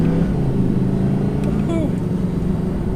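A 2020 Audi R8 V10 Quattro accelerates and shifts into second gear, its steady engine drone running beneath someone talking inside the cabin.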